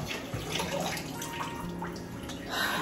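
Water draining out in a home during a morning routine, a soft steady rushing and gurgling wash with faint drips, low in level and continuous throughout.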